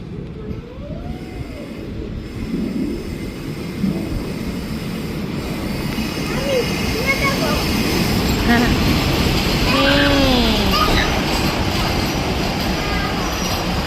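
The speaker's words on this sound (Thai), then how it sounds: "รถไฟมาแล้ว" A train rumbles into a station in Thailand, its wheels squealing in high rising and falling tones over a continuous rolling noise, with people talking nearby on the platform.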